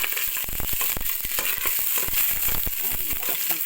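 Garlic and onion hit hot oil in a pan while cooking tuna belly sinigang sa miso, giving a loud, constant sizzle dotted with sharp spattering pops and crackles.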